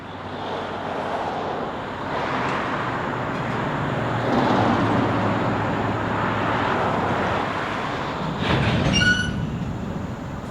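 A Southern Railway freight train rumbles steadily along the rails nearby, with a brief high-pitched wheel squeal near the end.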